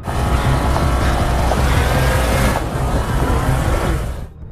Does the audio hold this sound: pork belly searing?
no